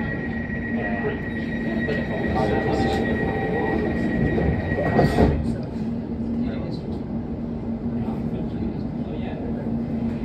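An Elizabeth line train in London rumbles steadily with a constant hum and brief squeals, while people talk faintly in the background throughout.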